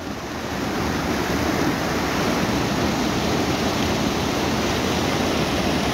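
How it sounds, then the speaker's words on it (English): Loud rushing water in a forest at night, a steady dense roar filling the whole clip with no breaks and no voices. "The rushing water."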